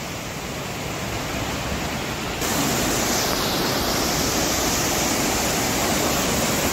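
A hidden waterfall roars nearby as a loud, unbroken rushing wash of water that abruptly grows louder partway through, with no voices.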